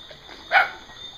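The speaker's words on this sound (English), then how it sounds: "Who you barking at?" A single dog barks once, a short sharp bark at moderate distance over a faint steady background hum, recorded outdoors at night in western Jamaica.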